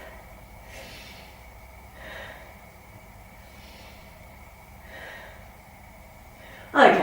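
Three deep, slow breaths are drawn and released during a beginner yoga chest stretch, soft airy swells spaced evenly apart, ending in a brief louder rustle.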